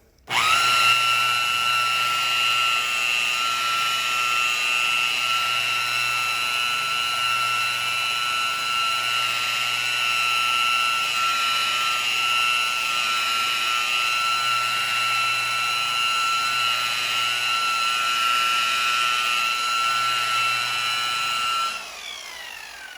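A power buffer whines at a steady high pitch, close and loud, while polishing a Cobra car hood after 3000-grit sanding, then spins down near the end.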